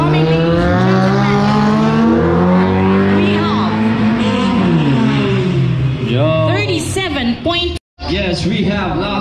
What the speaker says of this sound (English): Junior, driving a CG hatch.